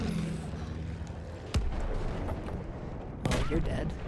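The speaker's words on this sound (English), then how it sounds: "don't be shooting at me, girl!" Gunfire in the Battlefield 1 multiplayer video game, with two sharp shots standing out over a dense rumbling battle bed of distant firing and noise.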